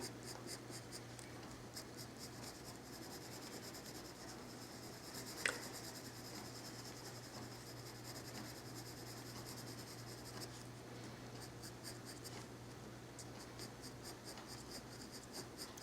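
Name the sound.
colored pencil strokes drawing bird feathers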